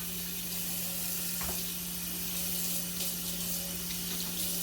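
Water runs steadily from a kitchen faucet while flatbread pizza is prepared at home, a constant hiss with no break and no voices.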